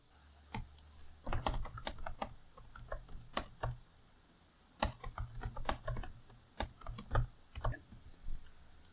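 Someone types a prompt on a computer keyboard, with quick irregular bursts of key clicks broken by short pauses, close and fairly quiet, and no talking.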